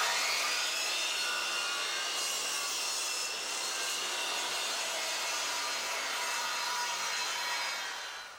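A Triton Workcentre saw makes a bevel cut through wood: a loud, steady high whine with a rasping edge holds for several seconds, then winds down at the end.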